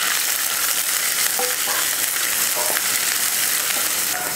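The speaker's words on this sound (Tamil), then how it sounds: "இப்போ இதை வதக்கிடலாம்." Onion, curry leaves and green chilli sauté in hot oil in a pan, giving a steady, loud, close sizzle with a few scraping stirs and no voices.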